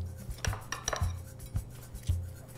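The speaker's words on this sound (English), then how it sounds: "I'm just gonna give it a little mix." A spoon stirring cheese, oil, juice, scallions and mint in a bowl, with a few soft, regular clinks and scrapes, close and quiet.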